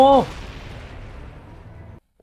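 A sharp blast from an anime explosion, followed by a rumbling, noisy tail that fades over about two seconds.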